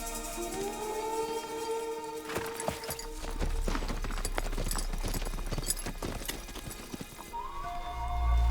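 Horses' hooves clip-clop steadily on the ground in a close, rhythmic patter, with a faint whinny and a swelling orchestral score underneath.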